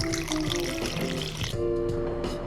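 Absolut Peppar vodka poured into cocktail glasses for a spicy mule, a steady liquid stream with faint bubbling trickle, close and clear, with a brief pause and second pour.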